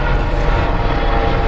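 A loud, close aircraft engine drone, most likely a helicopter passing overhead near a marina at El Masnou in the Balearic sailing trip, fills the whole clip as a dense steady roar.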